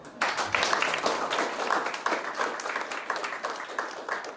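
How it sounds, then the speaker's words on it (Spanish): A group at a narrative therapy and feminism workshop claps for themselves after a breathing exercise, lively close applause with distinct individual claps, rising quickly and holding steady. "dense un aplauso."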